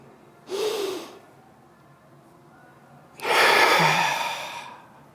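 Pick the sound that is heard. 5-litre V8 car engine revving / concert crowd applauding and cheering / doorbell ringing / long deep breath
long deep breath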